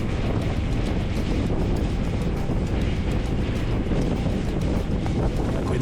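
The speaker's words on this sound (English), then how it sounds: "When the ferry sails between Brač and Var Island, it lowers its speed" A ferry crosses from Split to Bol on Brač island, its engine rumble and rushing wind on the open sea forming a loud, dense, continuous roar with no voices.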